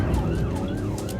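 An ambulance siren wails steadily through continuous road and traffic rumble, its rising and falling tone clear and fairly close at an emergency call-out.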